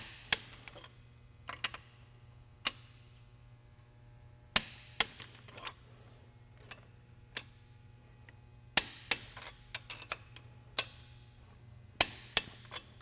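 Torque wrench clicks while engine bolts are tightened in stages to 45 and then 55 foot-pounds during pushrod installation on a Suburban engine build: sharp, isolated clicks spaced irregularly, close and fairly quiet over a low steady hum, with no talking.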